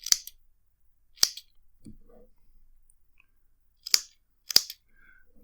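Scissors snip through a 6mm cotton wick strip at the edge of an RDA deck, four sharp, close cuts in two pairs with short gaps between them, plus a faint soft rustle, no talking.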